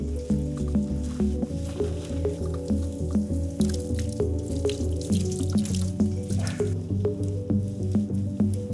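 Running water rinses hair color out of hair at a sink, a steady rush with wet squishing and splashing throughout.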